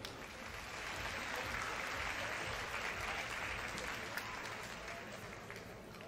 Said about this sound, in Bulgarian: Още веднъж аплодисменти за тези войни!